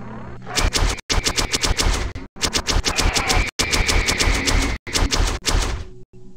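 Rapid automatic gunfire from the mobile shooter game Deception Force, loud bursts of repeated shots broken by a few short pauses.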